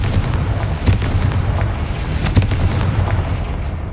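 A Confringo fire spell blasts in Hogwarts Legacy, a fairly loud boom with a couple of sharp bursts standing out over a continuous low rumble, no voices.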